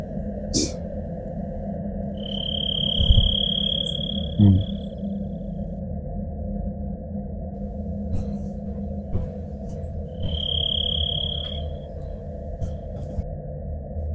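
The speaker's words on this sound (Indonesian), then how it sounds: "Suara jangkrik, suara macam burung kan, dengar kan?" Crickets at night in the pine forest of Karacak Valley: two drawn-out trilling chirps several seconds apart over a steady low hum and an unbroken insect drone, with scattered faint clicks.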